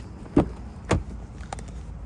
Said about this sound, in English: we can lock and unlock the doors with that button